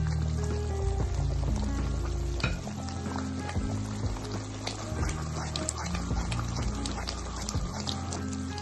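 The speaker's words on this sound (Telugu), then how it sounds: "ఇప్పుడు నెయ్యి పోసుకోవాలి." Ghee is poured into a hot pan while making coconut laddus, bringing a steady frying sizzle with some stirring clatter throughout.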